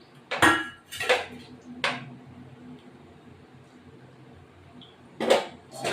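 A metal lid goes onto a cooking pot of paneer curry: a few sharp clanks and rattles, close and fairly loud, separated by quieter kitchen background with no talking.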